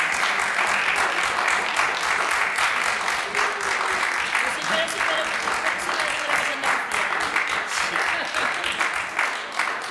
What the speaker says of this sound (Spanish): No quería interrumpir este aplauso tan merecido